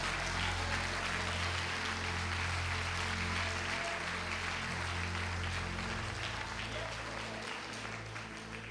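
Church congregation clapping together, a dense steady wash of applause filling the room throughout, with some voices mixed in beneath.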